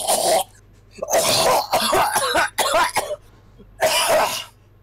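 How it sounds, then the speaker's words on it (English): A character in Danganronpa 2 coughs harshly several times in loud, raspy bursts separated by short gaps, with throat-clearing sounds mixed in. "He just coughs up all of his excess fat and goes back to being skinny Byakuya."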